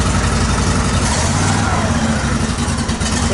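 A zero-turn lawn mower's engine idles with a steady, loud, rough drone and slight wavering in level, close by and continuous throughout.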